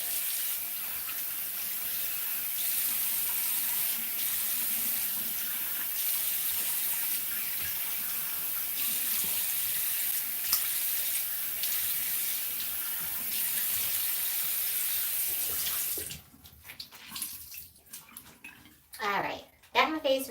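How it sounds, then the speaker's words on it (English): Tap water runs steadily into a sink for about sixteen seconds as a face is rinsed beneath it, a continuous close splashing hiss that stops abruptly, leaving faint handling sounds and brief splashes. "So let me rinse my face."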